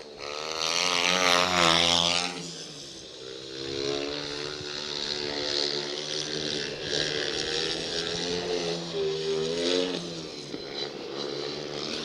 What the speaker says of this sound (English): I'm just going to let you listen to the motorcycle for a lap.